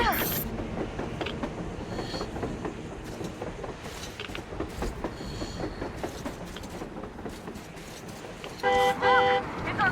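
Train on the surface in the video game Metro Exodus, a rumbling mechanical clatter with a short horn toot near the end, heard under voices talking.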